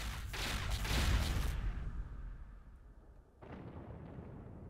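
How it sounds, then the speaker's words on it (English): Explosions in the Sins of the Empires game: a heavy rumbling blast that swells and fades over about two seconds, then a second, softer burst follows after a short lull. "That was a good explosion."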